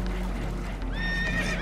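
A spooked horse whinnies in Red Dead Redemption II aboard a boat taking on water, a rising high neigh entering after a second over a steady low rumble, moderately loud, with no talk.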